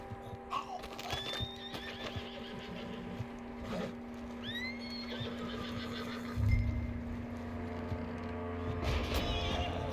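In the video game Red Dead Redemption 2, a horse neighs in loud whinnies amid hoof clip-clops and snorting, with a low engine-like rumble swelling toward the end.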